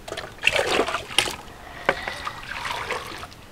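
Water poured into a cooking pot of Peruvian pachamanca with broad beans, heard as several close splashing, trickling bursts with short gaps between them.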